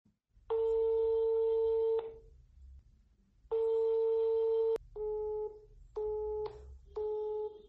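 Telephone busy signal on a call that goes unanswered: repeated steady electronic beeping tones in bursts of varying length, loud and clear with a low hum underneath and no voices.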